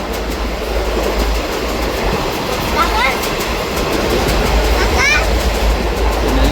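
A Konkan Railway passenger train rumbles steadily along the tracks near Ratnagiri with continuous wheel noise and a couple of brief squeals, loud and close, as if heard from inside a carriage.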